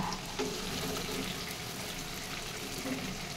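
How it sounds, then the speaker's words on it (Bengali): Chopped tomatoes frying in a pan give a soft, even sizzle that stays at the same level throughout, with a few light knocks near the beginning and the end. "আর দুটো টমেটো কেটে নিয়েছি। এবার আমি এটাকে 2 মিনিট মতন ভেজে নেব।"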